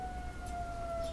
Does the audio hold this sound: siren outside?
yes